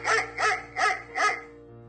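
A pet dog named Sprinkles barks four times in quick, evenly spaced yaps, close and clear, with no talk over it.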